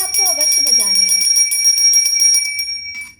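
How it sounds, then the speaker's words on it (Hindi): A small hand bell rings steadily during a Navratri puja at home, bright metallic tones repeating in a quick even rhythm, close and loud, with a voice speaking over the first part before the bell continues alone and fades. "तो घंटी आपको अवश्य बजानी है।"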